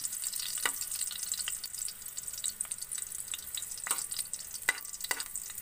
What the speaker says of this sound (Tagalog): Gigisa lang natin siyang ganyan hanggang sa mag light brown siya.